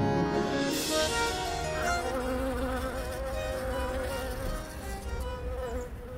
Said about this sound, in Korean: 매개자 활동을 벌이는 벌류를 집단으로 발견하였고 이 벌들이 모두 양봉꿀벌인 것으로 확인하였습니다